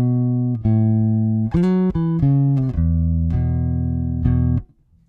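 A Spector NS Pulse 4 bass guitar plays a short line of clear, articulate sustained notes, loud and close, ending with a fade to quiet.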